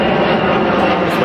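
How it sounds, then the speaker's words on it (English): Steady, loud roar of an airplane passing overhead in Chiang Mai, a continuous broad engine drone that swells slightly as it holds through the moment. "Just wait for the airplane."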